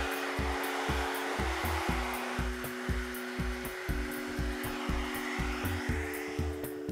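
A handheld blow dryer drying sectioned hair on a graduated bob as a brush works through it, giving a close, steady airy whoosh with soft rhythmic rubbing pulses throughout.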